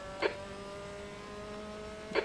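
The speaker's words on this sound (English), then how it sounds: "There's a car leaving the pit lane." A race car in a sim racing video game holds a steady droning engine tone throughout, with two short, louder bursts near the start and end.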